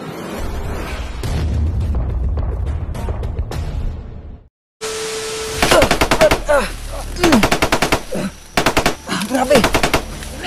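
Loud automatic gunfire in a shooter game: rumbling bursts, a brief silence, then rapid, dense volleys of shots in quick repeated bursts close to the listener.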